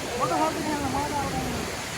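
Rising river water rushes in a continuous, even roar close by, with a voice speaking faintly over the flow.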